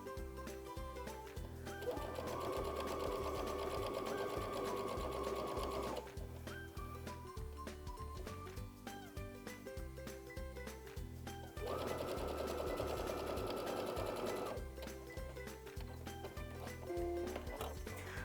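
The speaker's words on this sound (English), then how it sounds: "then we'll continue sewing that 3/8 inch seam all the way around" A sewing machine stitches a 3/8 inch seam along quilt binding, its steady close whir running in two long bursts with a quieter pause between.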